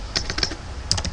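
Someone types a search on a computer keyboard: a short run of quick, close key clicks in an uneven rhythm, with no voices.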